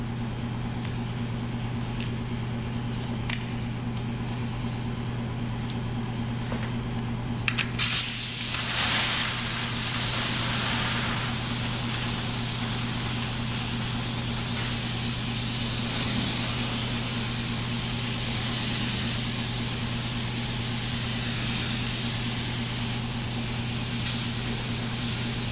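A spray gun lays down high build urethane primer coats on an autobody panel, starting with a low hum and scattered clicks, then bursting into a steady, loud hiss of spraying that continues over a constant electrical drone.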